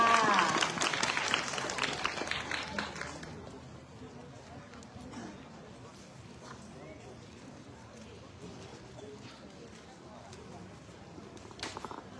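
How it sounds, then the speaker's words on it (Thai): An audience at a Thai temple celebration applauds a performance loudly at first, then the clapping dies away into quieter room noise and scattered murmuring, with a brief burst of clapping near the end. "ขอเสียงปรบมือให้การแสดงหน่อยนะคะ"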